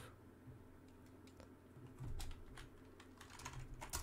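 Quiet keyboard typing with soft, irregular key taps at close range, a few sharper clicks near the end, over faint background noise.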